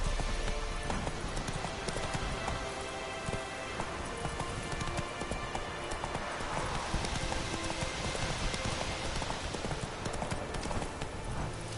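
The horse Roach gallops in the video game The Witcher 3, with rapid rhythmic hoof clip-clops over a busy game soundscape that includes rain-like patter and music.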